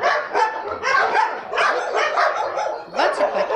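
Several dogs barking at an animal shelter, a chorus of overlapping barks and yips in repeated bursts, close and loud, with a few whimpering notes between them.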